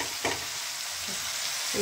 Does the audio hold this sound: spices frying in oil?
yes